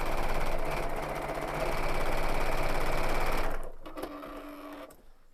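A sewing machine stitches quilt blocks in a fast, even whirring chatter for about three and a half seconds, then stops sharply, leaving faint light clicks and handling sounds close by.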